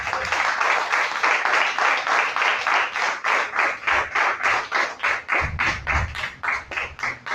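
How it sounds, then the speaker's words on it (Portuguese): A church congregation at a healing service applauds steadily for several seconds, a dense run of rhythmic claps that holds loud throughout, with a few low thumps near the end. "Quem pode aplaudir o Senhor?"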